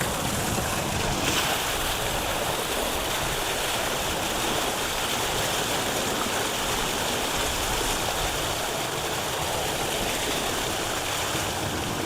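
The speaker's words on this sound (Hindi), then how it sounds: "तो गाइस दो मोटरें एक साथ में चल रही हैं।" Two water pump motors run together while water pours and splashes outdoors, a steady, dense broadband rush that holds evenly at close range for the whole stretch with no voices.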